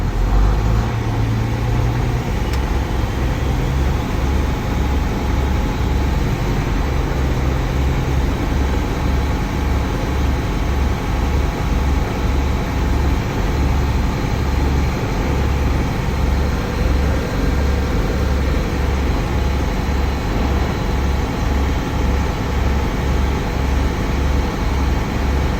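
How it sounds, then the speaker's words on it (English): A truck engine runs in a cab with a steady, dense low rumble that holds at a constant loud level while held just below 1500 RPM until the governor cuts out. "I will accelerate without passing 1500 RPM until my governor cuts out"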